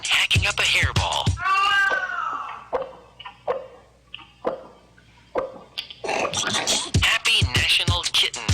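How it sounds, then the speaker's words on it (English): A kitten hacking up a hairball, loud close retching and gagging bursts with meow-like cries, separated by a quieter stretch of small coughs before the heaving returns. "here's a kitten hacking up a hairball"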